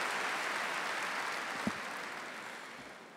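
Steady applause from the audience at the Zlatna Bubamara 2023 award ceremony, a dense sustained wash of clapping filling the hall with one brief knock partway through.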